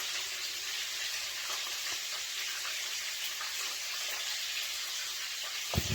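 Honey tossed into a hot pan of party appetizers, with a steady close sizzle and frying hiss running throughout and a small clatter near the end.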